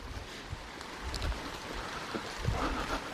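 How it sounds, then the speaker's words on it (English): A river runs after rain near Gilsland spa on the River Irthing: a continuous, fairly soft rushing and burbling of flowing water with small splashy surges, and no voices. "So the river's running a little bit like, because obviously we're getting rain."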